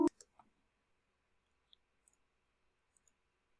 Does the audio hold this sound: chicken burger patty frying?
no